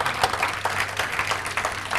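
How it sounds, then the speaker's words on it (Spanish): A church congregation applauds during a service, a dense steady clapping with a few louder individual claps standing out, heard alone without speech. "denle un aplauso al Señor."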